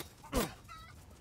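A single short cluck from a chicken in the video game Resident Evil Village, quiet and brief over low background ambience.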